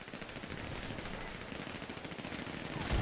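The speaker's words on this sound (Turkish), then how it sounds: "Bir tane kurşun yedim." Rapid automatic gunfire from a multiplayer shootout in GTA 5, a dense continuous rattle of shots that swells slightly louder at the end, with no voices over it.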